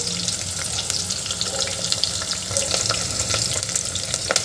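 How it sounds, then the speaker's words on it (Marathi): Onions sautéing with curry leaves and green chilies in a pan for spiced rice, a loud continuous sizzle and crackle with soft stirring scrapes, close and steady with no talking. "आता हे छान कांदा शिजतपर्यंत आपल्याला परतून घ्यायचं आहे."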